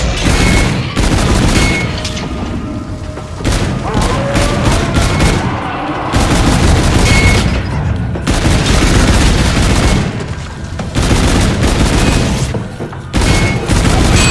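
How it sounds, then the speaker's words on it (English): Nonstop rapid gunfire from a mounted roller coaster gun with infinite ammo in Call of Duty: Infinite Warfare's Zombies in Spaceland, loud dense bursts with brief gaps and booming hits, no voices over it. "Really good thing this gun on the roller coaster has infinite ammo."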